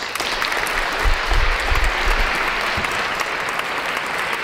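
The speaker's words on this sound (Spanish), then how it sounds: "vamos a esperar y a recibir a María Fuentes Gálvez, que es la primera chiquitita, con un fuerte aplauso." Warm applause at a charity gala for young talents in Granada welcoming a little girl onstage, continuous clapping from the audience with some low thumps partway through.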